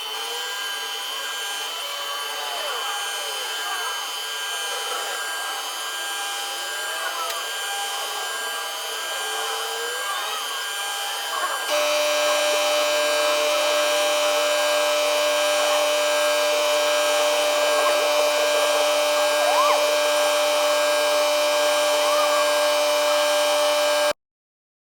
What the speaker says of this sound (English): Now I'm machining it with the CNC to make sure the angles are precise